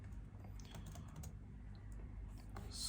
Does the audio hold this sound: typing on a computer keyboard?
yes